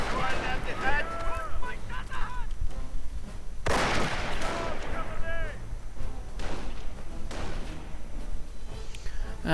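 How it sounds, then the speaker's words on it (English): Mortar and artillery fire in a WWII strategy video game, heard as heavy booming bursts and rumbling blasts with talk running over them. "Come on, Glimmerman, deal with the mortars."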